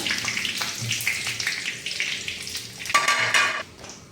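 Dried red chillies frying in hot oil with cardamom and cloves, giving a close, steady sizzle with crackles and a louder burst of hissing near the end.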